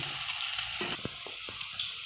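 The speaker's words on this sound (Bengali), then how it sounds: "একটু সময় এই আলুটাকে একটু ভাজা করে নিই।" Potato pieces sizzle steadily in salted oil left from frying fish, a close, continuous hiss with a few soft clinks of stirring.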